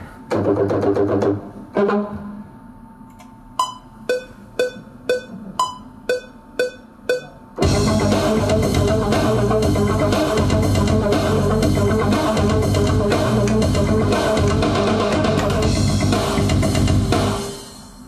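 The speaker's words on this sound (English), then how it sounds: "I'm going to record the second synth line to it" Synthesizer lines play: a short run of evenly spaced plucky electronic notes, then a dense, sustained synth passage layered over a bass line, fading at the end.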